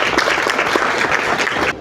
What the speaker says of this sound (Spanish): Voy a pedir unas fuertes palmas para Edgardo Rivera Martínez